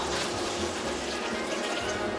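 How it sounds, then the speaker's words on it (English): Water is poured into a pot of meat sauce with frozen peas for a shepherd's pie, a steady close splashing and gurgling stream that runs without a break. "now I'm going to pour in 700 ml of water"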